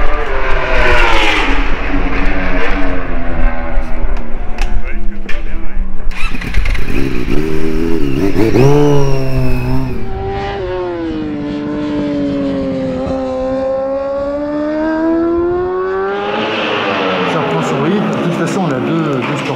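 A racing motorcycle laps the track during the first day of world championship testing, its engine howling loudly and shifting pitch through the rev range while commentators talk over it throughout.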